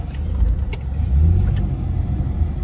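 A Ford Explorer engine revs while the SUV sits stuck in deep sand near Jeddah, a loud, steady low rumble that swells in the middle and then holds at high effort, with no voices.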